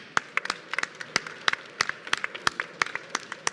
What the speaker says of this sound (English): I want first also to give them a round of applause because they've been selected.